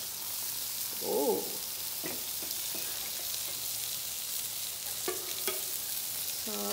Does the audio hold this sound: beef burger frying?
yes